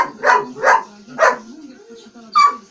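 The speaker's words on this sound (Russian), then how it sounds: "Собаки за ним выходят." A dog barks four times in short, evenly spaced bursts, close and fairly loud, with a steady low hum underneath.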